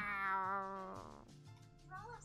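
A cat meows in the video game Tales of Xillia 2, a drawn-out harmonic cry fading into a shorter second mew, heard close and clear with game sounds beneath.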